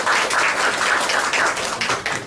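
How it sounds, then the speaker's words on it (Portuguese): A lecture audience claps together in a dense, sustained round of applause, close and loud, with scattered individual claps standing out and no voices. "Pessoal, uma salva de palmas nós podemos."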